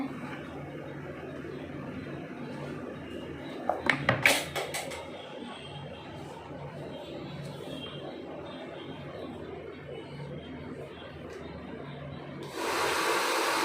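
A hair dryer blows steadily while hair is styled with a comb brush, giving a constant whooshing drone with brief clatters of the brush near the start and a louder surge of airflow at the end.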